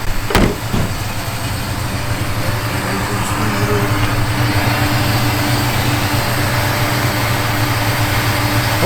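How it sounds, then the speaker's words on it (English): Heater blower motor of a 1965 Mercury Comet running steadily, a constant whirring hum with a brief clunk at the start, close and even throughout with no talking. "Blower motor works"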